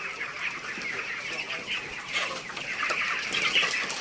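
A dense flock of around ten thousand broiler chickens on a poultry farm, ready for harvest, clucking steadily in a continuous overlapping chatter at moderate loudness.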